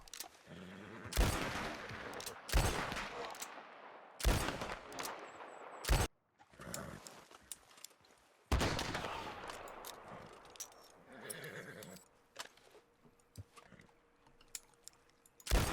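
Revolver gunfire in Red Dead Redemption 2, a cap and ball Lima revolver fired in first person, with a series of sharp, loud shots spaced irregularly, each followed by a short ringing tail, then quieter clicks and handling sounds between them.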